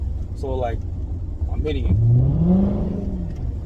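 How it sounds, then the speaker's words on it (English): Hyundai Genesis 5.0 V8 fitted with a Roar throttle pedal revs up hard, its engine note climbing loudly in a rising sweep, with someone talking over the start of it. "As soon as you hear that rev getting so loud like that, it's because it's dropping gear, it's getting ready to kick."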